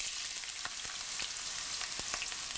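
Chopped ginger sautéing in the same oil used to fry king fish for a pickle, giving a steady, moderately quiet sizzle broken by frequent sharp crackles and pops.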